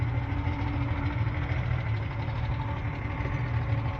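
A Yamaha 50 outboard motor pushes a pontoon boat with a steady, even drone running throughout, deep and continuous with a constant hum and no breaks.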